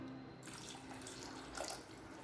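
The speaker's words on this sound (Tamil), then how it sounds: "இது கூடவே அரை கப் தண்ணி சேர்த்துக்கலாம்." Half a cup of water is poured into a pan of tomato and moong dal kootu, a brief, steady splashing stream close by.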